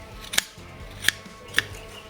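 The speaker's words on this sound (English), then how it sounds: "I'm just snipping to the corners." Three separate scissor snips cutting the corners of burlap for a texture-paste art piece, each a short crisp cut spaced evenly apart in a quiet room with faint background hum.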